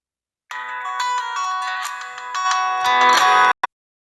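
A bright, melodic phone ringtone plays loudly for about three seconds, then cuts off abruptly, followed by a brief click.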